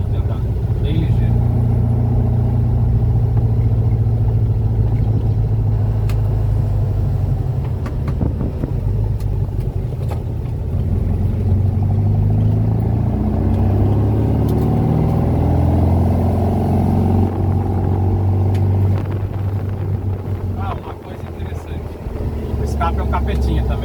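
A 1970s Volkswagen Fusca (Beetle), a 1976 1600 or 1973 1500, drones steadily while driving, its low engine rumble and road and wind noise filling the cabin continuously.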